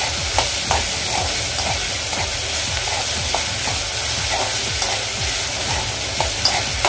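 Steady sizzling of onions frying in a pan until translucent, with repeated soft scraping of a spatula stirring through; no voices.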